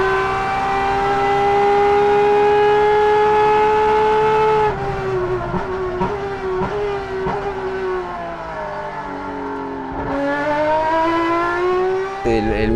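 A race car on a circuit sounds loud and high as its engine note drops in steps while braking and downshifting, then climbs again as it accelerates away.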